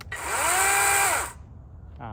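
A Wild Badger Power 12-inch 20V electric chainsaw runs up in one steady whine of about a second, then winds down. It is near and loud, with quiet room noise after it.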